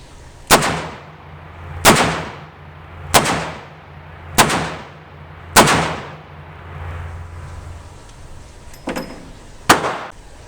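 A Smith & Wesson 500 Magnum revolver fires a full cylinder of MagTech ammunition outdoors: five loud, sharp, booming shots roughly a second apart, each with a rolling echo, then a pause, a small click and a sixth blast.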